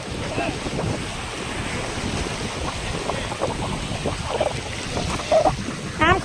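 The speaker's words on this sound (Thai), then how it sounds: "น้ำขึ้นแรงมาก" Strong surf rolling onto a beach at high tide, a steady roar of breaking waves with heavy wind buffeting the microphone throughout, rising slightly near the end.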